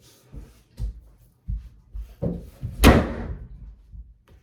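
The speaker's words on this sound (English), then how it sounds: "we don't slam the door like that" An indoor door in a house rattles and thumps several times before slamming hard with a loud, close bang, followed by a faint knock.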